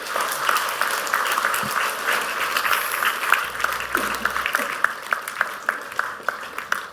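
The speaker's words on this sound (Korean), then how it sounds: "박수" Church congregation clapping to welcome guests invited forward during a service, a steady broad round of applause in a room, with a few louder individual claps standing out near the end.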